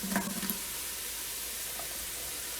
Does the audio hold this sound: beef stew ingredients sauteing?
yes